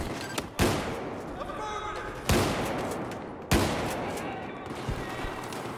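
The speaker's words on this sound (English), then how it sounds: "Oh, this shotgun's got a lot of range." Shotgun blasts in the video game Battlefield 4: three loud, sharp booms spaced over several seconds, each with a long rumbling tail, over steady background battle noise, with a few faint smaller shots in between.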